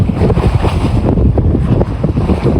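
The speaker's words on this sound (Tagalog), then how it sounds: "malakas ang dagat" Rough sea at the shore of Barangay Basyad: heavy wind buffeting the microphone over a loud, churning roar of waves, with rolling low surges throughout and no voices.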